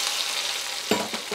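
Crushed garlic tempering (tadka) sizzling in hot oil over cooked eggplant, a steady hissing fry with a sharper crackle burst near the end, close and loud, no voices.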